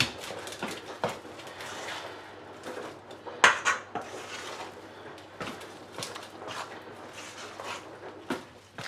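Spoon stirring sourdough bread dough in a bowl by hand, steady close scraping and sticky dull knocks of the spoon against the bowl, with occasional sharper clinks, continuous for several seconds without speech.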